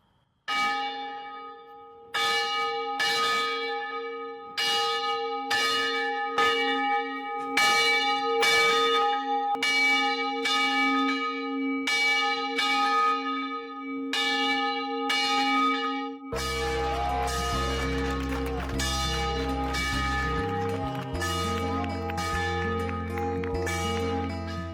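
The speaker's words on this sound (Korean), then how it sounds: "특별히 종을 울리는 거룩한 퍼포먼스가 연출되었습니다." Large bell in a 125-year-old church bell tower with a tiled hip-and-gable roof rings in steady, resonant strokes, loud and alone, then gives way to sustained organ-like music in the second half.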